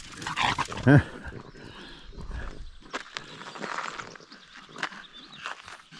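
A dog gives a short whine or yelp near the start, amid footsteps and rustling outdoors on a mushroom-hunting walk in the Carpathian mountains (Western Gorgany), with quieter movement sounds afterward.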